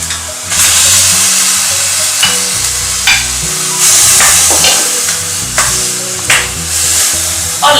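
Ground meat frying with onion in hot olive oil for mousaka, a loud steady sizzle with repeated stirring and spoon scrapes against the pan throughout, no voices.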